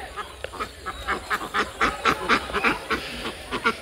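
A flock of village ducks being herded home, a run of rapid nasal quacks and honks in quick uneven bursts, close and clear over quiet rural background.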